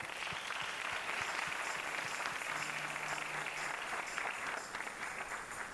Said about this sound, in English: The 2 districts that occupy this edifice have done tremendously well and deserve a hand of applause.